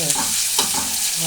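Onions and drumstick pieces sautéing in hot oil, a close, steady sizzle with a few soft stirring scrapes over about a second, no talking.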